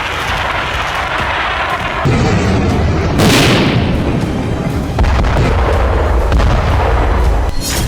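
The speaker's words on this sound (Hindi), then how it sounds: "बैटल ग्राउंड से मल्टी बैरल रॉकेट लॉन्चर से" A multi-barrel rocket launcher fires on a battlefield, a loud, continuous roar of launches and booming blasts, with a sharp whooshing burst partway through and heavy low rumble sustained to the end.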